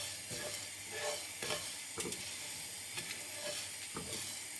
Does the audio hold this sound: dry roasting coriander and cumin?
yes